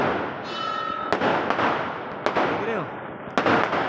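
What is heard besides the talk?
firecrackers bursting during Govardhan Puja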